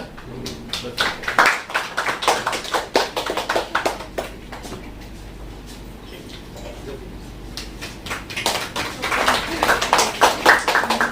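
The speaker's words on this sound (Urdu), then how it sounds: "زوردار تالیاں" Enthusiastic applause from an audience at an Urdu literary gathering as a guest advocate is presented with a shawl, garland and memento, sharp clapping bursts at the start and again near the end with a quieter lull between.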